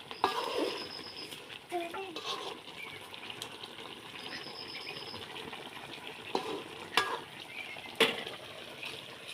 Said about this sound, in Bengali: একটু নাড়াচাড়া করে দিই।